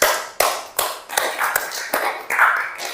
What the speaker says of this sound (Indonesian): Beri tepuk tangan luar biasa.